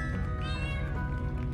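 A cat meows in the LEGO 2K Drive racing video game, a single drawn-out, rising and falling mew heard clearly over steady game music and background sound.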